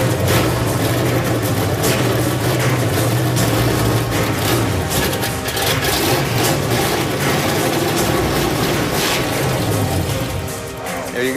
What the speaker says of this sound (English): Thank God the engine started.